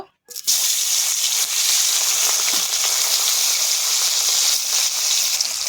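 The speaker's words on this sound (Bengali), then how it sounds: "কড়া গরম হয়ে গেছে কড়াই তেল দিয়ে দিয়েছি এবার মাছ দেব" Small carp fish dropped into hot oil in a wok set off a sudden, loud, steady sizzle that hisses on without a break.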